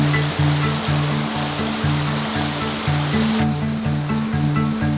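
A mountainside river in Pai, Thailand rushes in a loud, constant wash of flowing water, with a rhythmic patterned hum underneath and no voices.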